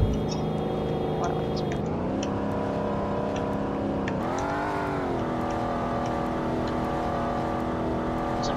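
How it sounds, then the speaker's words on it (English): A Lamborghini Gallardo engine in the Roblox game drones steadily at high revs, its pitch dipping and rising twice as it shifts, with a light voice murmuring underneath. "Sounds like a Gallardo."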